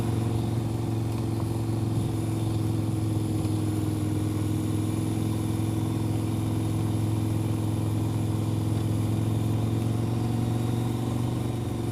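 Motorcycle engine droning steadily while riding on a mountain road, a loud, continuous low hum with no gear changes or breaks, and no voices.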